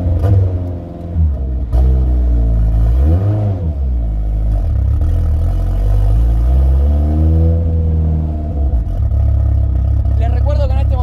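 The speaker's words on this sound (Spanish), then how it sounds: "estoy con escape libre, seguro no se escucha nada, hace un quilombo." A Volkswagen Gol car with an open exhaust runs loud and close, its engine rumbling and rising and falling in pitch as it revs, with someone talking over it.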